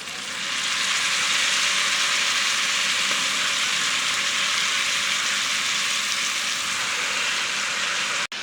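Washed drumstick leaves hit a hot pan with oil and turmeric, setting off a loud, steady, hissing sizzle that runs unbroken for several seconds before cutting off abruptly, with no voices.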